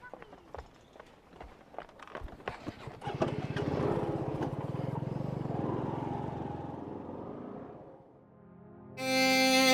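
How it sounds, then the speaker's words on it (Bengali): A motorcycle is started and ridden off, its broad engine rumble rising after a few seconds and holding steady before fading, mixed with scuffling movement and some talk. "এই বাইক স্টার্ট দে"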